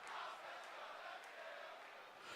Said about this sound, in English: I was not expecting that chant from the crowd